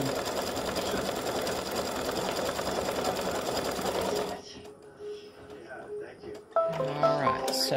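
Embroidery machine stitching a St Patrick's gnome design, loud steady rapid whirring for about four seconds, then stopping with faint clicks and handling noises.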